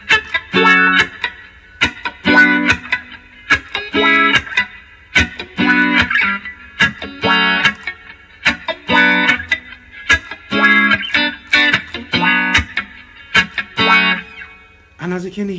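Reggae electric guitar through a wah pedal with the mix set low, playing short choppy offbeat chord stabs in a steady rhythm, close and fairly loud, with no talking.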